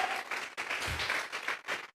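Church congregation breaking into applause as an offering of praise during a sermon, with a burst of lively clapping from many hands that starts, briefly dips, then continues and fades out near the end.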